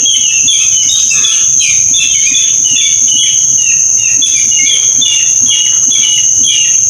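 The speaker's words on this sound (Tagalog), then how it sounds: "Mga ibon." Birds call repeatedly in a noisy forest, their chirps layered over a constant high insect drone, with the whole scene loud and dense and no one speaking.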